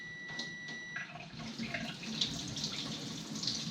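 Water poured from a graduated cylinder into a soil sieve during a permeability test, a soft, steady trickle and splash at close range with a few light drips, fairly quiet and without talk.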